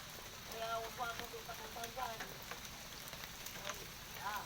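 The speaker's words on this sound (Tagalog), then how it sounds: "Oh, ang lakas ng ulan." Heavy rain falls in a steady, dense hiss that stays constant and fairly faint throughout, with a few bird-like chirps or squeaks rising above it and no talking.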